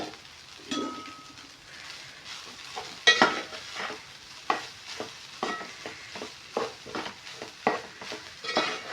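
Rice with mint masala, chilli powder, salt and garlic butter stir-fried in a pan, heard as a steady run of rhythmic spatula scrapes and stirring strokes over a soft sizzle, close and fairly quiet, with no talk.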